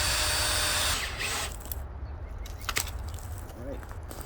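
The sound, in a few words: power drill countersinking screw holes for pull-up bar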